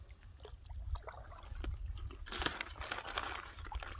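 Crunchy Readywise freeze-dried apple pieces are chewed close to the mic while out paddling a boat, with soft repeated crunches over faint water and paddle sounds.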